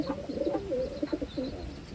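Large pigeons coo close by in a cold-weather coop, soft rounded throaty calls repeating in short clusters over a faint background hiss.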